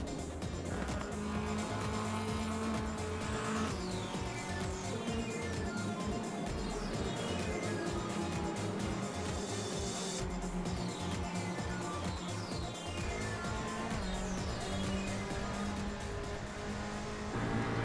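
The Vento touring car in the Assetto Corsa racing game drives continuously, its engine revving up and down through gear changes with a steady loud roar and occasional tire noise.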